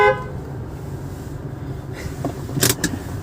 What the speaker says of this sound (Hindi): हॉर्न बजाता हूँ,